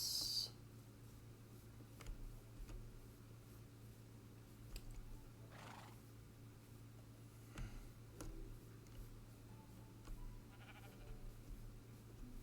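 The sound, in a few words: sheep bleating in the video game Minecraft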